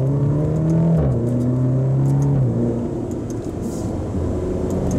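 A 2023 Maserati Grecale GT with about 296 horsepower accelerates on a test drive, its engine note rising through gear changes as a loud, steady cabin rumble and whir.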